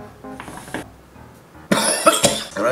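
Several sharp coughs from someone smoking a hookah: a short cluster early on, then a pause, then louder, harsher coughing bursts close by.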